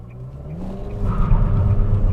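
A 2021 Nissan Sentra accelerating hard with its outer wheel spinning, a low rumbling engine note that rises and swells into a louder, rougher roar heard from inside the car.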